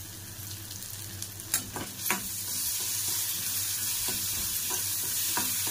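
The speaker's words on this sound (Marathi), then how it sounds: "चला आपला कांदा टोमॅटो मस्तपैकी भाजला।" Chopped onion and tomato frying in oil with a steady close sizzle, while a spoon stirs and scrapes the pan in a few sharp knocks early on.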